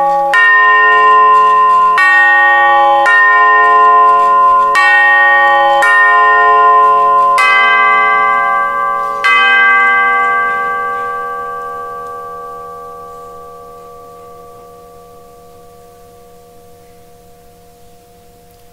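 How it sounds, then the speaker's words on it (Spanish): Church bells toll in a slow, steady series of loud, ringing strikes, each note overlapping the last, then the peal stops and a long resonant hum decays to near silence. "Campanas doblando"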